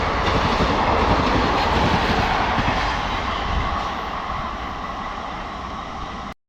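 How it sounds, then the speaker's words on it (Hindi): The Jananayak Express, a Darbhanga–Amritsar unreserved train of yellow-and-blue ICF coaches, rolls steadily through Shambhu railway station. A loud, continuous rumble with clattering wheels stays close throughout, easing slightly toward the end before cutting off. "जननायक एक्सप्रेस दरभंगा अमृतसर, सारी अनरिजर्व ट्रेन है"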